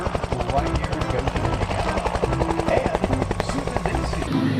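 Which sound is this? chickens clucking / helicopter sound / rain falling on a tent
helicopter sound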